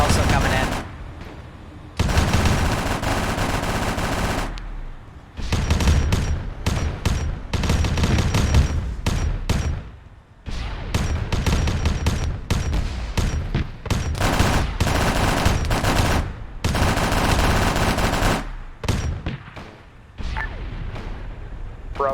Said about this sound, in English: Plasma fire also coming in.